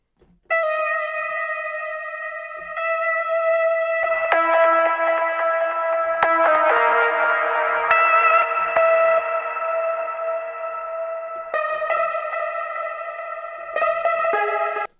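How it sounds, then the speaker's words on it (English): A synthesizer line from music production software plays bright, sustained harmonic tones with heavy echo and effects, shifting chords over steady notes, loud and alone with no voices. "I'm going to find another synth as well to sort of play off that one."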